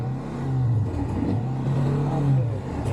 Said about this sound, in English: You put the throttle first, then you can turn.